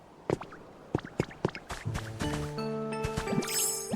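Water sounds near a waterfall in the Pokopia video game on Nintendo Switch 2, with soft drips and splashes, then sustained musical tones building underneath toward the end.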